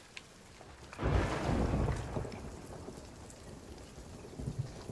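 A thunderstorm in the pirate sailing game Sea of Thieves: a thunder rumble swells loud near one second and rolls on for about two seconds, with steady rain hiss underneath and a few later bumps.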